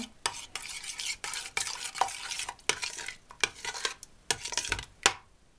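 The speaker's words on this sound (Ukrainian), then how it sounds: "Це все перемішую." Close-up scraping and clinking of a spoon stirring a mixture in a 7-litre pot, in irregular strokes with brief pauses, no voices.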